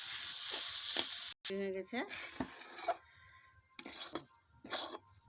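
Boiled potato filling for a spicy pitha frying in a pan, a steady sizzle with clinks of a spatula and pan, broken by short pauses, with a voice speaking briefly in the middle.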